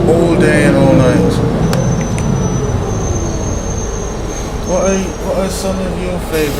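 Steady low engine drone and rolling road rumble of a bus driven on Winsenburg route 102 in the OMSI 2 simulator, continuous and fairly loud with faint higher whines, with someone talking over it.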